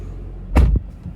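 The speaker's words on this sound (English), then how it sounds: "Door closes well." The door of a 2024 Ford Mustang GT Premium shuts with one solid, close, loud thud followed by a brief settling rattle, then quiet.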